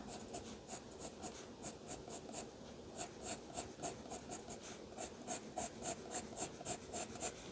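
A marker draws strokes on paper up close, making a steady run of quick scratchy squeaks as tree limbs are drawn in, repeated at an even rhythm with no talking.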